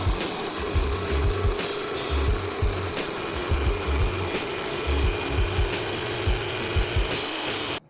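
A jigsaw fitted with a Fast and Clean blade cuts wood nearby at moderate volume, a steady rasping buzz with rhythmic pulsing chatter as the blade strokes, no talking.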